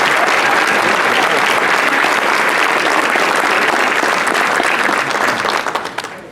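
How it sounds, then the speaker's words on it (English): Loud, dense applause from an evening banquet audience, steady for several seconds before quickly dying away at the end. "can we have a round of applause for all of our excitement"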